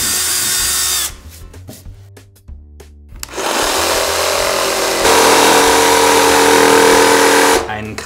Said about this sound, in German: ich muss mit einem Bohrer ein Loch vorbohren und das mache ich jetzt.